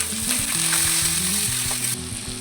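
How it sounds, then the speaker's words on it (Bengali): Chopped tomatoes go into a pan of hot oil with fried onions and ginger-garlic paste for a chickpea curry. They sizzle in a constant close crackle, with light stirring taps scattered through. "এরপর দিয়ে দেব টমেটো কুচি।"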